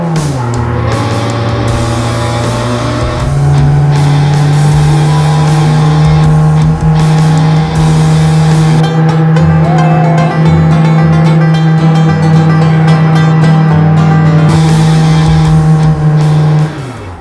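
A car engine held at high, steady revs for a burnout attempt, loud and close with a sustained droning roar and slight pitch wavering, no talk over it.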